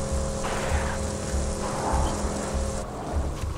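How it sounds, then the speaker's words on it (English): A helicopter in the video game Borderlands 2, its low rotor thudding droning steadily with a rumbling engine wash, continuous and fairly loud, with no voices. "That's a a chopper."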